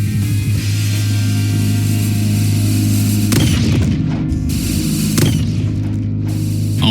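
Concentrated Shot, a gun attack effect in a video game, booms as a dense, continuous roar with deep low-end rumble, punctuated by two sharp blasts, loud and close throughout.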